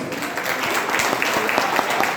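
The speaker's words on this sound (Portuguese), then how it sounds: "Bota palmas para Jesus" Congregation clapping during a church worship service in Santo Amaro, a dense steady patter of many hands at moderate distance, with faint voices mixed underneath.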